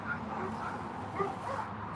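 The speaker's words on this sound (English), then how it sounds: "dogs are barking" Dogs bark and yip outside, faint and distant, with a few scattered high yelps heard through walls over a low steady background hum.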